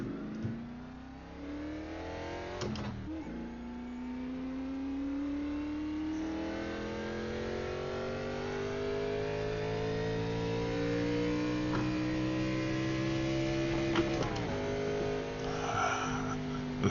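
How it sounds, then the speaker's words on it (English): A carbureted Gen 4 NASCAR Cup car engine with a 4-speed gearbox revs up steadily, its loud, buzzing exhaust tone climbing in pitch over several seconds, with brief gear-change dips before it settles into a sustained high-rpm drone. "You hear that tone in the exhaust? These things were carbureted."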